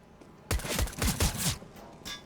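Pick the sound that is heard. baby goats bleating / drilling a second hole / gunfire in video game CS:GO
gunfire in video game CS:GO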